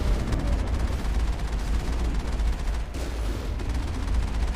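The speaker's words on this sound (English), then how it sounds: "Oh, I can't shoot behind me, can I? With the machine gun." Dense, continuous automatic gunfire from a machine gun in a science-fiction video game firefight against Geth vehicles, loud and sustained with rapid overlapping shots and booming low rumble throughout.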